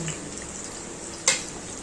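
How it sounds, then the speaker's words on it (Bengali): Mustard and poppy seeds fry in oil that is not very hot, giving a steady, soft sizzle close by, broken once by a sharp clink of a utensil against the pan. "ভালো করে এটাকে ফ্রাই করে নেব আর এর মধ্যে দেব হচ্ছে সর্ষ পোস্ত"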